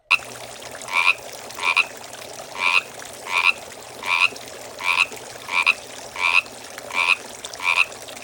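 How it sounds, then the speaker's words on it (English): A frog croaks repeatedly in a steady rhythm, about ten loud, close calls over a quiet outdoor background. "Do you hear the frog?"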